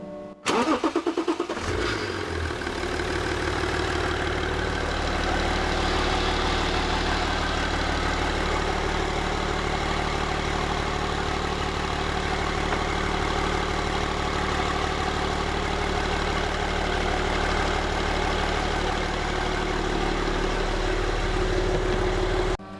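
A car engine with a charger hooked up to the battery cranks briefly and catches, then runs at a loud, steady idle up close for the rest of the stretch, without talking.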